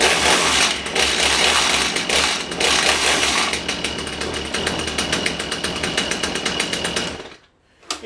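A Stihl chainsaw idles with a loose, chattering chain, making a loud, steady mechanical rattle that runs unbroken for about seven seconds before cutting off abruptly.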